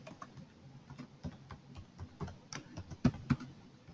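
Keys of a computer keyboard being pressed while a password is typed for a reset, a quick irregular run of close, light clicks ending in two sharper, louder taps, with no talk.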